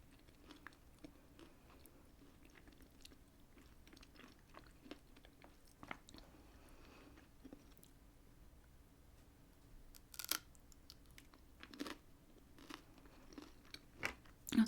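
Crunchy biscuit bitten and chewed close up, scattered sharp crunches and soft chewing clicks over a quiet background, a few louder bites toward the end.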